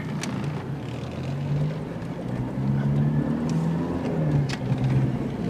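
A turbocharged Pontiac Sunfire drives on a road, heard from inside as a steady engine drone whose pitch climbs and shifts as it accelerates, with road rumble and a few light clicks, and no one speaking.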